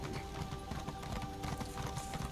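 Horse hooves clip-clop steadily in Elder Scrolls Online, a continuous rhythmic patter under dense game ambience and music with no talk.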